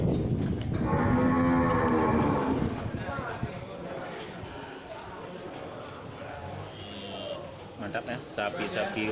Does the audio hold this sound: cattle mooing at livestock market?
yes